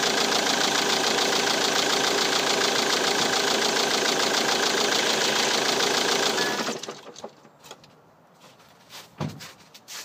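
A car engine fitted with a Delphi fuel pump idles steadily and loudly with a knocking, rattling texture, then is switched off and falls away to near silence with a few small clicks and knocks.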